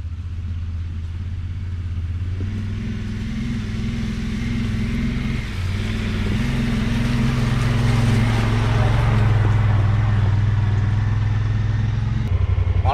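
A Honda Pioneer 1000-5 side-by-side climbs a steep hill in high gear and two-wheel drive, its engine a loud, labouring low rumble with shifting pitch as it pulls upward, heard from on board.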